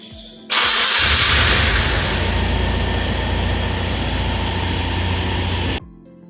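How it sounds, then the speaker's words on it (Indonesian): A car's starter motor whirs briefly before the engine catches and settles into a steady, close idle that runs for several seconds and then cuts off abruptly. "Putar kunci kontak dan lakukan starting."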